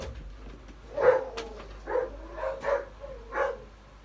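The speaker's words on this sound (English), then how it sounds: "my dogs have gone psychotic" Pet dogs bark indoors at a distance, four or five separate muffled barks spaced about a second apart over a low hum.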